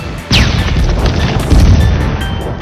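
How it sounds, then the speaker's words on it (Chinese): Explosives detonate inside an abandoned factory in a TV series scene: a sudden heavy boom breaks a brief quiet, then a long rumbling, crashing roar rolls on at high volume with no talk. "在厂区安放大量炸药，引爆后通过声波探查地形"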